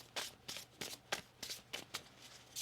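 A deck of tarot cards is shuffled by hand in quick repeated riffles, about eight crisp bursts at an even pace, close and quiet with no talk.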